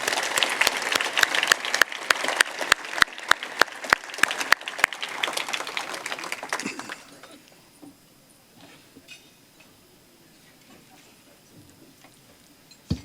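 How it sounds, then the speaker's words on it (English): A luncheon crowd at a symposium claps steadily for several seconds, then the applause fades out into a quiet room. "Let's have a little applause to help them on their way here."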